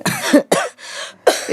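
Several harsh coughs in quick bursts, close and fairly loud, separated by short gaps with no speech.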